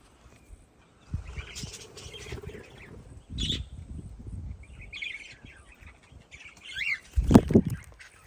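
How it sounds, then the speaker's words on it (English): Small parrots chirp and squawk intermittently in an aviary at a sanctuary, with bursts of wing flapping and rustling, fairly close, in an otherwise quiet space. "the small parrot aviary now"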